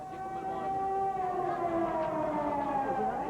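Air raid sirens wailing over Baghdad during 1991 Gulf War bombing, a steady loud rising-and-falling tone with layered harmonics sustained throughout, no talk.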